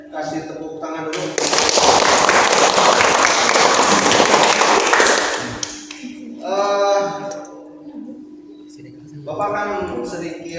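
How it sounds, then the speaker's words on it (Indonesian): An audience at a university teacher-training presentation breaks into dense, loud applause lasting several seconds, then it fades away as a voice speaks, with scattered talking afterward. "kasih tepuk tangan dulu"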